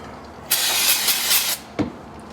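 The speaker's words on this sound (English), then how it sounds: "we can go ahead and clean it again with carburetor spray" A loud aerosol can of carburetor cleaner hisses for about a second, stops, then a short squirt follows; close and steady with no talking.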